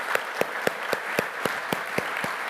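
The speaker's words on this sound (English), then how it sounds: "let's give him a round of applause" Audience applause for a governor at a 50th anniversary celebration, a steady run of sharp, evenly spaced claps sustained at moderate loudness throughout.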